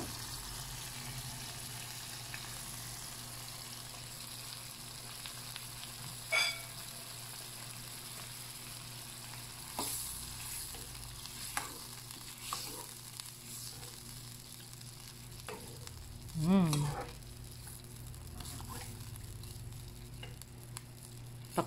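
The second pressing of coconut milk goes into a hot pan of pork binagoongan, giving a quiet, steady sizzle with a few soft clinks and stirring sounds scattered through.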